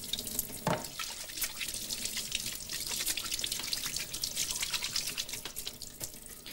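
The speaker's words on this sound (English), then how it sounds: "we wash our hands properly in soap and hot water" Hands are washed under a running tap, a steady splash of water broken by uneven drips and sloshing as the hands move through the stream, close and alone.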